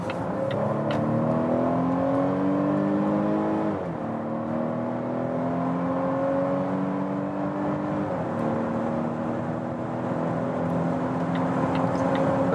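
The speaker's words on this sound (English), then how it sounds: "Let's go to dynamic mode and let's accelerate from 50 kilometers an hour." Volvo XC60 B5 mild-hybrid SUV accelerating hard in dynamic mode from 50 km/h, the engine note climbing steadily through two upshifts, loud and continuous from inside the cabin.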